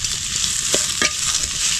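Onion sautéing in a hot pan for Kerala-style fish fry, a continuous loud sizzle with a couple of brief stirring scrapes, no voices.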